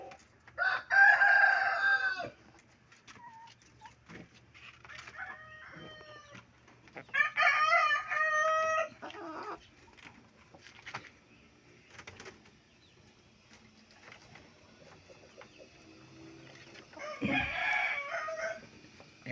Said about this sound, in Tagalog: yung mga alaga namin broiler guys